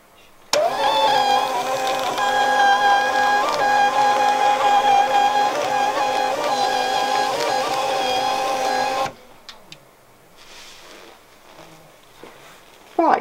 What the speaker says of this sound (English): Now I'm going to print the design for the back.